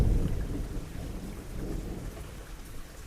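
Steady rain falls with a low rumble of thunder, strongest at the start and then easing into a continuous wash of rainfall with no voices.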